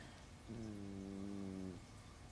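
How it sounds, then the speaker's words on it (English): A single drawn-out, low, droning snore lasting just over a second, steady and close, with quiet background before and after. "Snore."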